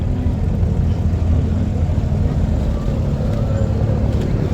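A boat ride on open water in Dubai, carrying a steady, close rumble of engine and water wash that runs unbroken throughout with no clear voices.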